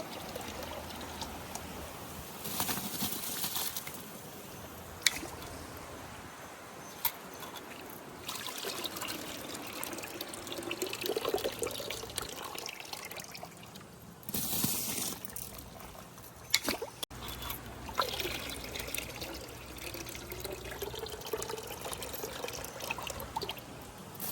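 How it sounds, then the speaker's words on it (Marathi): Washed rice goes into boiling water for masala khichdi, giving a quiet, intermittent trickling and pouring with soft splashes and bubbling in a kitchen. "दोन पाण्यानं धुतले तांदूळ आता उखळी आली टाकतो"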